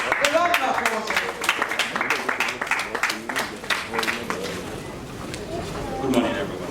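An audience at a safety calendar competition event claps in a round of applause, a moderately close burst of irregular claps that thins out, with voices audible underneath.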